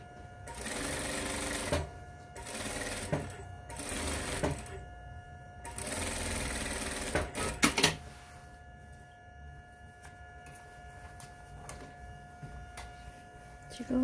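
Sewing machine stitching fabric for a dart bag, loud mechanical whirring bursts of running stitches that stop and start, followed by quieter handling clicks and a steady faint tone.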